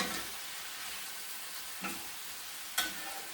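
Beef and celery stir fry being stirred in a hot pan, a steady sizzle with two brief scrapes or clinks, no talking.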